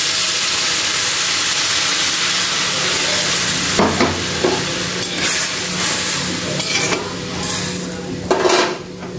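Chopped vegetables, kochu and potol for a vegetarian dalna, fry in a pan after turmeric is added, giving a steady close sizzle with scraping stir strokes and occasional clinks of utensil against metal.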